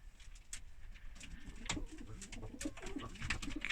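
Soft pigeon coos repeat throughout amid a busy background of other bird calls and faint rustling in a pigeon loft, fairly close by.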